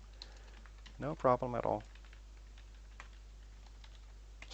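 Computer keyboard typing, a steady scatter of faint key clicks running through, with a short burst of speech from a man partway in.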